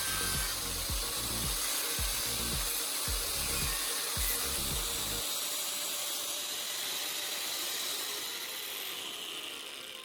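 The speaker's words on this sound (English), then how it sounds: "using an angle grinder, I'm carefully cutting out the marked section on the PVC pipe" An angle grinder cuts a slot in PVC pipe, starting with a rapid, rhythmic chattering grind for about five seconds, then settling into a steady, loud, hissing abrasive whine with no talk over it.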